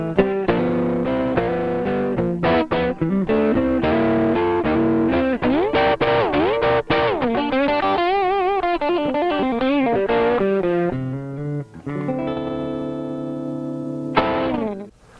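Electric guitar played through a Peavey Gary Rossington signature Penta amp head on its star setting, giving a compressed, moderately distorted tone with sustained chords and bending lead notes, loud and continuous with no talking.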